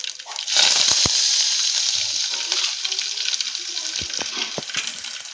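Mustard seeds, cumin and curry leaves dropped into hot oil, a sudden loud crackling sizzle that settles into steady frying with a few sharp pops and spatters.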